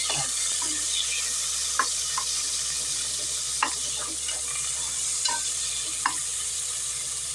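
Sliced onion tempers in about a tablespoon of hot oil for a traditional Tamil brinjal and seeraga samba rice dish. It gives a steady, close, continuous sizzle with faint crackles and the odd stir, and no talking.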